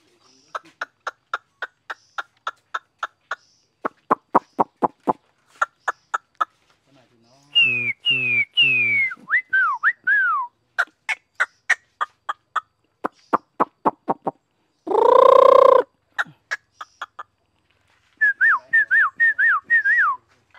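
A Chinese hwamei songbird, a prize-winning bird, sings outdoors at a village house: sharp repeated whistled notes in bursts, rapid trills and rising-falling phrases, loud and close.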